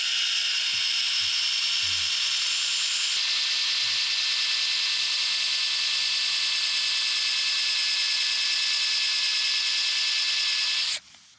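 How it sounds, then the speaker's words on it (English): A power drill spins a wooden dowel for friction fire-making, a loud steady high whine that starts with a few low knocks, holds continuously for about ten seconds, then cuts off abruptly. "a wooden dowel and a power drill"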